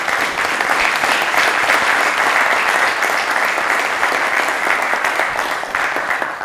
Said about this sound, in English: Please join me in a round of applause for General Scales.